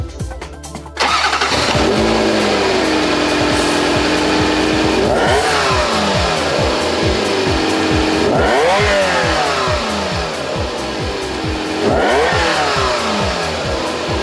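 A Ferrari 348 TB's 90-degree V8 starts up and then revs repeatedly, sharp rising and falling sweeps in three big bursts over a steady idle, loud and close.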